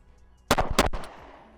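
Handgun shots in a timed shooting drill, a quick close burst of two or three sharp reports fired in rapid succession, with no voices.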